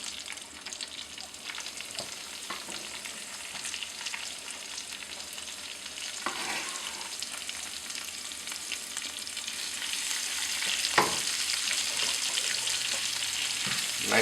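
Whole mushrooms sauteing with chopped herbs in a hot pan, a continuous close sizzle that swells slightly louder toward the end, broken by a few faint stirring knocks, with no voices.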